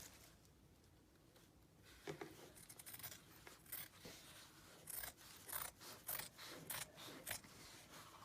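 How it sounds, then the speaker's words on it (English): Scissors snip up the middle of folded woven fabric, heard as a quiet series of close, crisp cutting crunches in irregular bursts after a near-silent start, with no one speaking. "I do this by folding it in half, and you're going to cut right up the middle"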